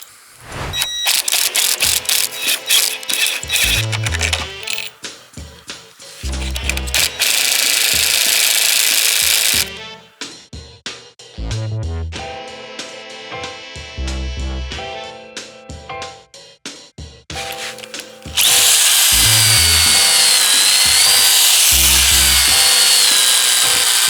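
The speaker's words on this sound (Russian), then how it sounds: "допритягиваю, где доска прям хорошо лежит, допритягиваю этими анкерами" Power tool, likely an impact wrench, tightening anchor bolts through boards during construction, in loud repeated bursts of rapid hammering and whirring separated by short gaps, up close and without speech.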